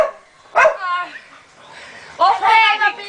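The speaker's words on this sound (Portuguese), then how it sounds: "Olha, eu não grito, só vai ficar latindo." A small female dog barks in short, sharp yips, two close bursts separated by a pause, with people chatting and voices mixed in around the barking during a New Year's gathering.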